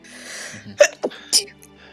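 A single short sneeze bursts out at close range amid faint murmuring voices and quiet room noise.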